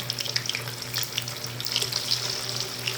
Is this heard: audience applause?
no